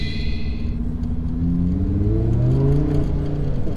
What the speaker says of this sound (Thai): เดี๋ยวผมลองปรับโหมดเป็นโหมดสปอร์ตแล้วกันทุกคนฟังเสียงนะ